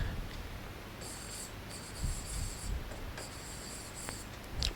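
A pen writes a short sentence on a surface during an English grammar lesson, giving intermittent scratchy strokes in bursts with brief pauses, close and fairly faint, with no talking.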